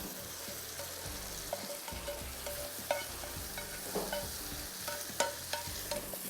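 Tomato puree sizzles and fries in a pan while being stirred for a chicken dish, with a steady loud hiss and recurring scrapes and taps of the spoon against the pan, no voices.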